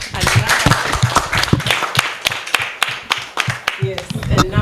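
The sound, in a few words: audience clapping after a testimony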